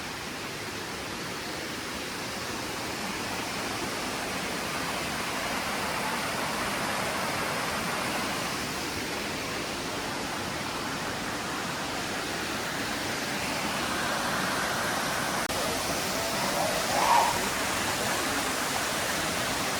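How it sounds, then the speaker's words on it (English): A rainforest waterfall gives a steady, even rush of falling water, broad and constant throughout, moderately loud with no voices over it. "Oh, the sound of the water."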